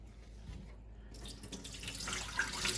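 Tap water runs into a sink while white rice is rinsed: a quiet, near-silent start gives way to a rising, splashy rush of running water.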